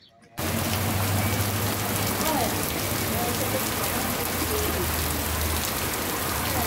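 Light rain falls steadily in Ubaúba in Brazil's Northeast, a dense, even hiss of drops starting abruptly and continuing without pause, with a faint voice in the background.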